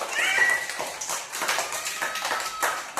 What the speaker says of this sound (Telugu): వాడికి కూడా క్లాప్స్ కొట్టండి